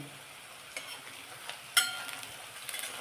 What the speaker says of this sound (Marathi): सगळं छान परतून घेऊया कांदा आपल्याला जळून द्यायचा नाहीये